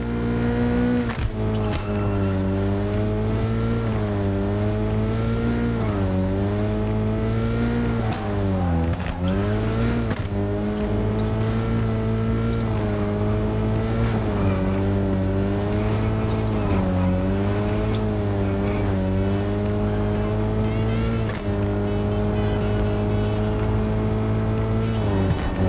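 Rally car engine in the WRC 10 video game, heard from a chase view behind the car: a loud, sustained engine note that climbs and drops repeatedly through gear changes, with occasional tyre noise.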